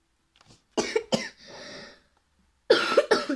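A man who is a little ill coughs during a board game: two sharp coughs, a short pause with a softer rasping breath, then two more close, loud coughs.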